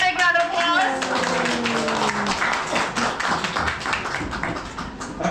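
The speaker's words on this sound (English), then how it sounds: "let's give him a big round of applause" Audience clapping at an underwater pumpkin carving dive show at the Sea Life Aquarium in LEGOLAND California, brisk steady applause with a presenter's voice and a child's speech mixed in at the start.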